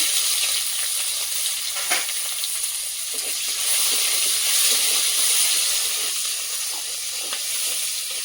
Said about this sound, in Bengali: কড়াইতে দিয়ে দেবো তেজপাতা গোটা রসুন পেঁয়াজ কোচা